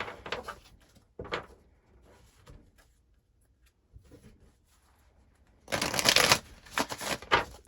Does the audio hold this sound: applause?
no